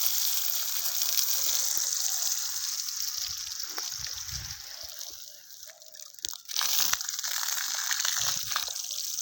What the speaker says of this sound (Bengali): এই যে পানি দিয়ে যাচ্ছি যতটা সম্ভব পাইপ যায় তত দূর পানি দিয়েই থাকবো যতক্ষণ কুলায় আর কি পাম্পে